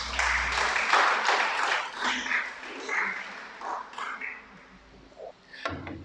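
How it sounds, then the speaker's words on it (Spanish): An audience applauds at a Torah teaching. A dense burst of clapping is strongest at the start, then thins into scattered, fading claps. "Dale un aplauso al Creador"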